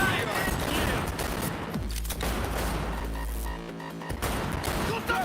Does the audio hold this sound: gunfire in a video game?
yes